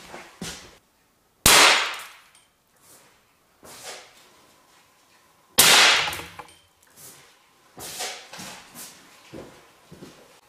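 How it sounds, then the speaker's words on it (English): An SRS seatbelt pretensioner fires with two sharp, loud explosive bangs a few seconds apart, followed by quieter clicks, clanks and rattles of the mechanism settling. "here we are now looking that how this seatbelt tensioner moves and how it explodes."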